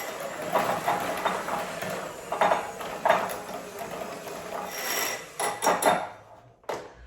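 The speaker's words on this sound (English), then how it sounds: "now we're going to blend it together using our handheld mixer" A handheld electric mixer blends a cheesy party dip in a bowl, giving a continuous motor whir with rough, uneven surges and knocking bursts as the beaters work through the thick mixture.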